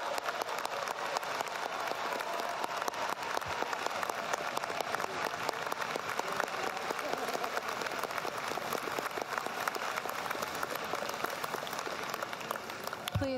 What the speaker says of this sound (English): Graduates, would you please rise and give yourself a cheer?